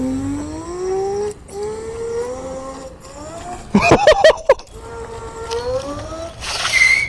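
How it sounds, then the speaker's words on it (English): Rising and falling electronic whine from a Kukirin G2 electric scooter motor running in square wave mode, a tonal sweep that climbs with speed, broken by a burst of rattling thumps midway and a hiss near the end. "Right now I'm getting it into square wave. It's gonna sound like a dualtron now."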